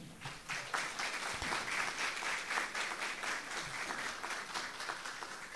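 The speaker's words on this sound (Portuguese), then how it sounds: "Vamos aplaudir o nosso expositor," Conference audience applauding a speaker at a public management panel, a sustained even wash of many hands clapping, moderately distant and fairly quiet, with a few low thumps nearby.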